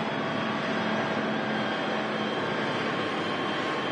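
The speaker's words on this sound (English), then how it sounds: "And there's the EasyJet about to vacate in front of us, in from Dalaman" An EasyJet airliner in from Dalaman rolls off the runway at Manchester Airport, giving a steady, loud broadband jet roar with no pauses and a constant level throughout.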